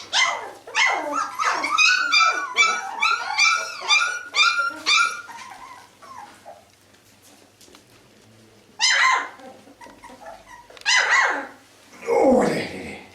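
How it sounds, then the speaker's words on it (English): A Berger Blanc Suisse mother and her two-and-a-half-week-old puppies, with a rapid run of close, loud barks and yips, then a quiet gap, then further scattered yelps and a whimpering whine, with no talk. "So she's checking up, moving around, waking them up, making a noise."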